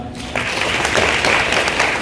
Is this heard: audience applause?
yes